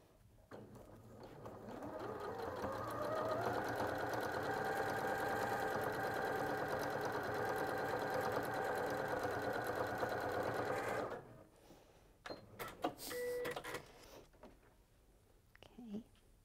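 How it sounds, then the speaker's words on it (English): A domestic sewing machine stitches a quarter-inch seam, running in one steady, close mechanical whir for about ten seconds before stopping, followed by soft handling noises and quiet talk. "I think I've adjusted the sewing machine, so it's going to sew"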